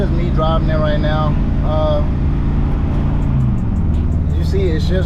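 Steady engine drone of a 1964 Chevy with a swapped 4L80E transmission while driving, a continuous low rumble that stays constant throughout, with a voice speaking briefly over it.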